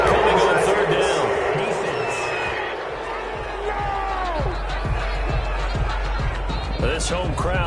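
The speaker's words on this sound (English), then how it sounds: "This home crowd, they're happy with that call." Home crowd in a PS4 football game roaring in reaction to a penalty flag on third down, a broad swell of cheering and murmur heard under game commentary.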